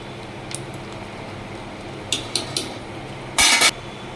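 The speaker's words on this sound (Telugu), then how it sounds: "ఇలా మొత్తం మిక్స్ చేసుకోవాలి" Utensils scrape and clink in a pot while sambar ingredients are mixed, with a few brief taps and a louder metallic rattle near the end against a low kitchen hum.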